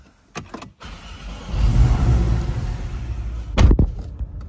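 A 2019 Porsche 718 Cayman 2.0T with PDK starts from inside the car. Clicks and a short whir come first, then the engine catches with a rising rumble and settles into a close, steady idle.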